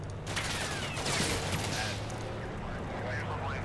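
Heavy 14.5mm machine gun fire from a BTR armoured vehicle in the war game Combat Mission Black Sea, heard as a continuous dense battle roar of bursts and shots, with a voice speaking faintly underneath.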